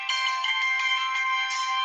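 A telephone ringtone rings continuously, a bright electronic tone close and alone with no voices.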